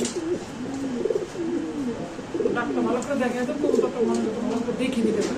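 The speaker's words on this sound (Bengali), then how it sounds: "এখানে আছে এক পেয়ার মাল্টাস কবুতর" A pair of Maltese pigeons coo repeatedly in soft, rolling phrases close by, continuing steadily through the clip over faint background noise.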